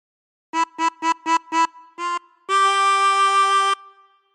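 Chromatic harmonica plays a phrase of Joy to the World: five short repeated notes, a slightly longer one, then a single long sustained note, clear and alone.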